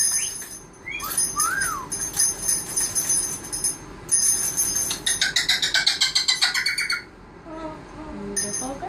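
An African grey parrot vocalizes with a varied run of whistles, chirps and squawks. Bursts come in uneven clusters, some sharp and rapidly pulsed, others sliding whistles, close and fairly loud against a steady low background rumble.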